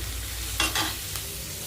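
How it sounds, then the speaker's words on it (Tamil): Onions sautéing in a pan for an egg curry, a steady soft sizzle with a couple of brief louder stirring scrapes near the middle, close and without talk. "வெங்காயம் வதங்கட்டும்"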